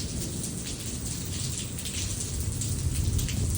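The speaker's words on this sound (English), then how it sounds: "It's just raining." Steady rain falls during a severe thunderstorm in Lubbock that brought high winds and quarter-sized hail, a dense, continuous hiss of drops close by, growing slightly louder toward the end, with no talk.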